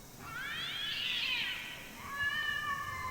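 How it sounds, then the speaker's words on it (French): A faint, cat-like cry rises and falls in the night, followed by a second thinner wail, heard alone against quiet background noise. "ce cri que vous venez d'entendre dans la nuit, et qui vous a fait sursauter, ressemblait effectivement au feulement d'un chat"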